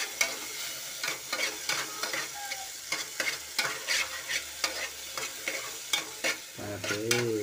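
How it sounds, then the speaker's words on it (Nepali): Cumin, chili and tomato tempering frying in a pan, with a continuous sizzle broken by repeated spoon scrapes and stirring clatters, close and fairly loud, ending in a louder hiss as more goes in. "त्यहाँ जिरा मर्च तड्का टमाटर हाल्दा"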